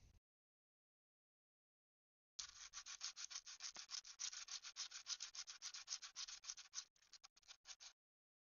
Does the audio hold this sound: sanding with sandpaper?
yes